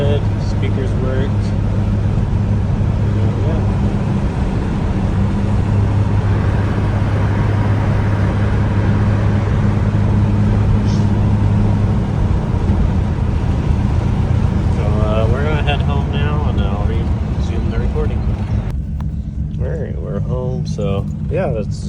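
A 1974 Plymouth Duster with an out-of-alignment front end drives along, its steady engine and road drone running continuously beneath a person talking inside the car.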